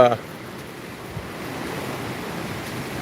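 Ocean waves roll in and break on a beach, a steady, fairly close wash of surf with wind noise over the microphone, and no talking.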